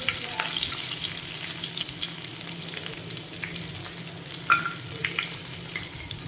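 Crushed garlic, a little ginger and green chillies fry in oil for mango pickle, a continuous even sizzle with scattered soft stirring clicks, close and steady.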